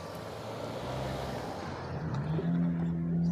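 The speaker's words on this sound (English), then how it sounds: "there were a lot of cars coming through at that time" Road traffic rolls past nearby, a rumbling wash of cars and heavier vehicles that builds toward the end, with a brief tonal whine as one passes.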